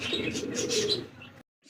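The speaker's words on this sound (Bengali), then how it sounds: "এত সুন্দর এক জোড়া কবুতর" A pair of red pigeons cooing, a soft close murmuring call lasting about a second and a half, then a brief silence and a faint new sound starting.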